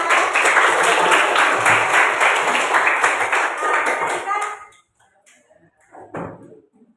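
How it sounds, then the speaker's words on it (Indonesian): Students in a classroom applaud together in a loud, dense burst of clapping lasting several seconds before it stops abruptly, followed by quieter scattered sounds and faint voices. "tepuk tangan untuk kita semua ya"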